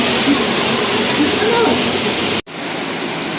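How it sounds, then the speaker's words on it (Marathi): Somtirth waterfall at Nivendi in the Konkan pours in a dense, steady rushing roar of flowing water, loud and close, with a brief dropout near the end before the roar resumes. "हे बघा छान सुंदर असा हा पाण्याचा इथून प्रवाह वाहत येतो"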